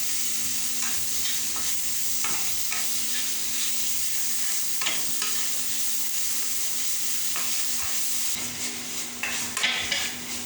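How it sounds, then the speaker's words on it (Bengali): Onions frying in a pan for a potato dum, a constant loud sizzle under intermittent scraping stirs from a spatula, close by with no talking. "পেঁয়াজগুলো ভেজে নিয়ে তারপরে করবো আবার আলুর দমটা।"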